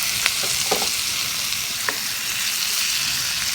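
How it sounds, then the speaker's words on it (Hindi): Hot oil tempering (tadka) sizzles over a stuffed eggplant filling of gram flour and coriander leaves, a steady close crackle with a few sharper pops. "और ये ऑयल है, इसको कि मैंने तड़का पैन में गरम कर लिया है।"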